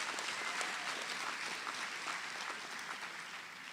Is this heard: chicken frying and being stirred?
no